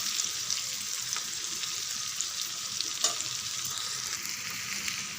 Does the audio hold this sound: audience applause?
no